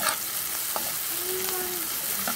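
Steady loud sizzling of onions frying in a pan, with a few clinks of a utensil stirring against the metal.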